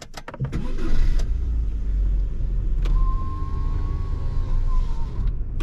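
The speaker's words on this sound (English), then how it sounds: "the first thing I noticed is the engine is incredibly quiet" A Rover 25 1.4 K-series car engine idles quietly with a low, smooth hum, accompanied by a faint whirring motor and a couple of soft clicks.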